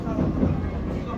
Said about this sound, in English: Admiring the cute little Japanese cruise train with only 3 cars.